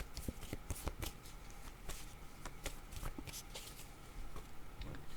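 Tarot cards are handled and drawn from a deck: close, crisp papery flicks and shuffling riffles in an irregular run of sharp little snaps over a soft rustle, with no talking.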